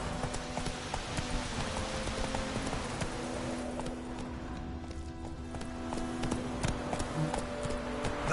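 Roach, a horse in the video game The Witcher 3, gallops with rapid, steady clip-clop hoofbeats close by, the rhythm carrying on throughout over light game ambience.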